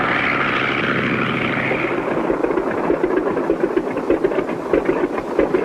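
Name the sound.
propeller airplane circling in to land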